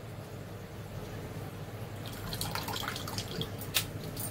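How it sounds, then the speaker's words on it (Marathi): Fresh small wet shrimp (kolim) rinsed in water, with faint trickling and splashing that grows busier in the second half, ending in a sharper drip or splash, heard close with no talk. "हा बघा ओला कोली मस्त स्वच्छ धुवून घ्यायचा."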